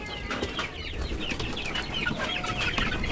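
A group of chickens clucks and chatters inside their coop, rain falling outside; a busy, continuous mix of close and overlapping clucks and calls.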